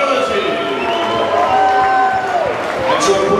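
A dense crowd at a Gillingham boxing fight night cheers and claps continuously, with shouts rising through the noise and voices talking over it.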